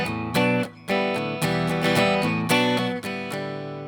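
Strummed guitar chords ring out in a steady progression, each chord struck firmly and left to sustain, played close and clear with no voices.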